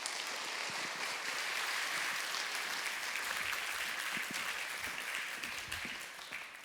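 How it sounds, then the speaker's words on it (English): Sustained conference audience applause at a women-in-tech conference, a dense even wash of many hands clapping that holds steady for several seconds before starting to fade near the end, with no voices over it. "Give her a very round,"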